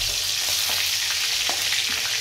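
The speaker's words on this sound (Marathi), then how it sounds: "पनीर कसं तळून घ्यायला लागली" Paneer fries in a pan with an even, moderately loud sizzle and a few soft stirring clicks, with no talking.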